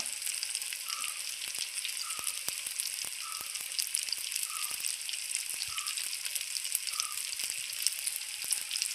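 Banana fritters (pazhampori) frying in hot oil, a steady bright sizzle with scattered pops and crackles throughout, close and continuous, with a few light clicks of a utensil and no talking.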